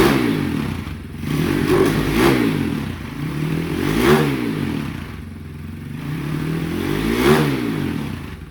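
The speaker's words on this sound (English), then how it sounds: "For being a race exhaust, this thing is quite quiet." A 2021 Apollo RXF 150 freeride dirt bike with a hollow race exhaust and a carburettor idles nearby and is revved up three times. The engine rises and falls with a steady rhythm and stays fairly quiet for a race pipe.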